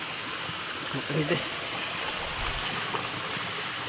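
A flowing stream that serves as a drinking water source gives a steady, faint rushing wash in the background while a person talks over it.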